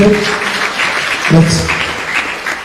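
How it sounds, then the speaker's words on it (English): Congregation applauding during an English-language FJKM worship service, a steady wash of clapping that fills the space, with a voice speaking over it at moments. "So let's clap for him. Let's clap, please."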